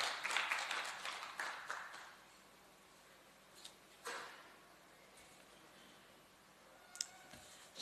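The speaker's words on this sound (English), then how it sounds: "A round of applause for her, please, ladies and gentlemen." Applause from a conference audience at a national dialogue on the right to food in Malawi, a burst of clapping over the first two seconds that fades out, followed by a few scattered claps and clicks in a quiet room.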